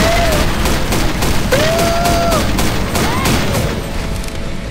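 Rapid bursts of gunfire from the Left 4 Dead video game rattle loudly and almost continuously, with rising whistling game effects over them and people shouting in the background.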